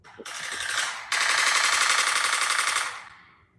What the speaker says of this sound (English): Gunshots, god damn it.